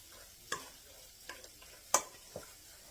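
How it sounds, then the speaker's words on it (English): A spoon stirs chicken divan mixture in a pan over a quiet sizzle, giving four or five separate scraping taps spaced irregularly, with one louder clack near the end. "let me stir this in"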